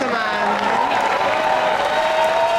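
A crowd applauds and cheers for climber Libby at the Rabble Rouser 2025 climbing competition, with steady clapping under a commentator talking over a loudspeaker throughout.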